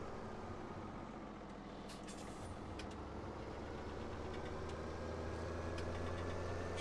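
Tractor in Farming Simulator 17, heard from the first-person cab: a low, steady diesel rumble with a faint knocking texture, quiet and constant, with a few soft clicks early on.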